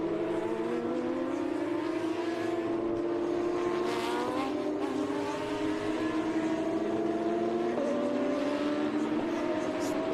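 Race cars from SVRA and Trans Am racing at the Mission Foods Austin SpeedTour, loud engine whines rising and falling in pitch as cars pass, continuous throughout with a race commentator talking over them.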